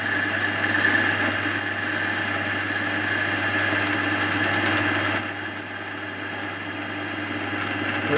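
A metal lathe bores out the middle of an adaptor plate for mounting motor end shield castings, giving a steady droning machine hum with a whining tone that stays constant throughout, with no talking.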